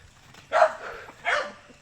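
Two short dog barks ring out about a second apart, moderately close, over faint background noise.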